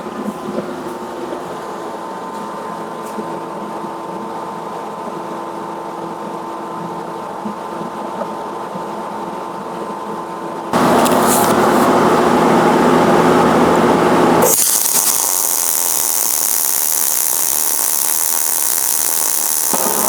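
MIG welder at turned-up settings laying a bead: a loud steady electrical hum, then a harsh crackling, hissing burst of arc, followed by a brighter high hiss to the end, no talk.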